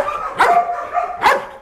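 A Malinois dog at a breeding kennel barks on command, two sharp, loud, close barks about a second apart.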